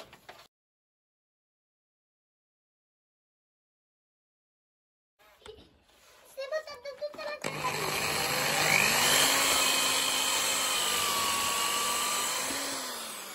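A power drill with a 5 mm bit bores holes into a soft conical skateboard bushing, starting after a few short taps, then running as a loud, steady high-pitched whine with shifting pitch for several seconds.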